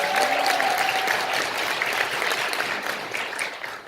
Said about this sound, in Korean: 큰 박수 한번 다시 한번 부탁드립니다.